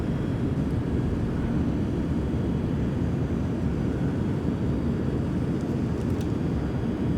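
A CRJ regional jet airliner in flight in Flight Simulator X gives a steady, loud, unbroken engine roar with dense low rumble and no pauses.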